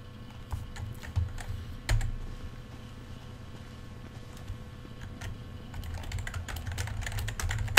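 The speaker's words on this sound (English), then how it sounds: "He's typing." Character typing on a computer keyboard in GTA 5 online, a scattered run of soft clicks and taps at uneven intervals over a low background hum, with louder keystrokes near the start and a busier burst toward the end.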